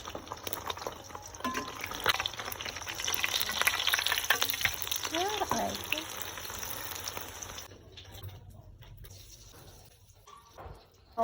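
Breakfast of egg, hotdog, dried fish and longganisa frying in a pan, a steady close crackling sizzle with some clatter, fading quieter toward the end.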